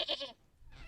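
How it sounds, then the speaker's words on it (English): A goat bleats once in the video game Wytchwood, a short, bright, wavering bleat followed by a brief quiet. "It's a goat."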